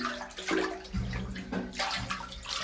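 Water splashes and gushes inside a water tank as it is rinsed out, with irregular bursts of sloshing and pouring, close and fairly soft.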